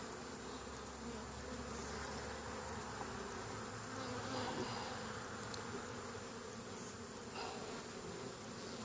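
Honey bees buzz around an open hive during a colony inspection, a faint, steady, dense hum of many wings that continues without pause.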